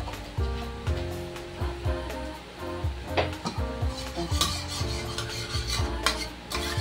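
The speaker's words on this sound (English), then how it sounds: "we will mix this together" Barbecue sauce ingredients for slow-cooker ribs being stirred together in a bowl, a steady close rhythm of spoon scrapes and wet swirling strokes with no talking.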